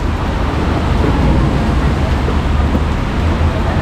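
A car pushes through a flooded road during a heavy Mumbai–Thane rainstorm, giving a steady, loud wash of water and engine rumble with no pauses and no talking.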